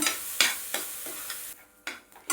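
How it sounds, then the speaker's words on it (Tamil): Soaked barnyard millet roasts in ghee in a pan: a soft sizzle under rhythmic stirring scrapes that come roughly every half second, close and clear. "அதை மீதி இருக்கிற நெய்யில் அதை போட்டு அப்படியே கொஞ்சம் ஒரு மூணு நிமிஷத்துக்கு நம்ம வறுத்துக்கலாம்"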